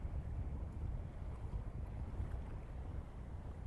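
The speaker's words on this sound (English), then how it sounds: "It's that northerly wind cutting in. It's coming like sort of this angle towards the camera and it's just cutting into everything." Cold northerly wind blowing straight into a microphone on a harbour breakwater by the sea, a steady, loud, low rumble with buffeting gusts and no one speaking.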